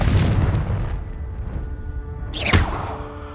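A Confringo blasting spell in Hogwarts Legacy, fought against dragons, erupts as a booming explosive burst with a whooshing rush near the end, amid ongoing rumbling combat noise.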